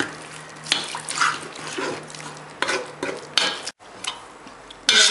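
Tatara paste made of corn flour and juice is stirred in a pot, with wet sloshing and scraping strokes in an irregular rhythm, close by and unaccompanied by talk.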